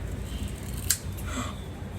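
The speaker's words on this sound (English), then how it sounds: "That was the first snip." A single crisp scissors snip cutting hair at the start of a home haircut, close and brief against a quiet room.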